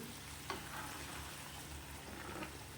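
Egg gravy frying in a pan gives a steady, quiet sizzle, with a spoon stirring through it and one small scrape near the start.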